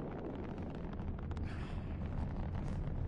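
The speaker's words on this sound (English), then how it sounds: "It's a Galileo rocket" Galileo rocket launching in the Watch Dogs video game, a steady deep roaring rumble with hissing wind-like noise that swells slightly toward the end, loud and continuous throughout.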